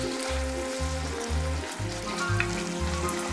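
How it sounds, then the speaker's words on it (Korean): Marinated shrimp sizzle steadily in a hot pan of oil for gambas al ajillo with dried chili, a loud, close, continuous frying crackle with low bubbling pulses and no voices. "이제 잘 재워둔 새우를 넣어 익혀봐야겠다."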